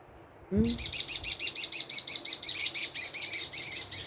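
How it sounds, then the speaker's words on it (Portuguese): Small birds chirp in a rapid, evenly repeated series of bright tweets that starts abruptly after a soft thump and continues steadily, fairly close and loud, with no talking. "Os passarinhos."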